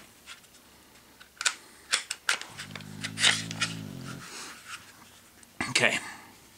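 A handgun being broken down: a series of close mechanical clicks, slides and metallic snaps, with a low humming tone in the middle, while someone talks.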